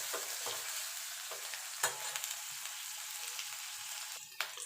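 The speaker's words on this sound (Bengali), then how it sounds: "আলুটা একটুখানি ভাজা ভাজা করে নেব।" Potatoes frying in a pan for a ridge gourd and poppy seed dish, a constant close sizzle broken by a few sharp scraping knocks of stirring.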